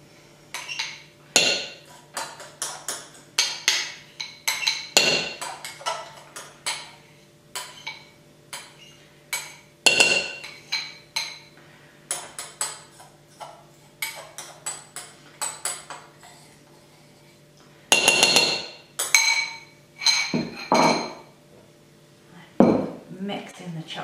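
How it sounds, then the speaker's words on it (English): A utensil scrapes and clinks against a bowl in repeated bursts as melted chocolate is mixed into brownie batter, the sharp taps and scrapes close up with brief pauses between strokes. "Mix in the chocolate."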